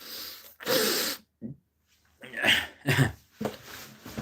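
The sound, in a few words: coughing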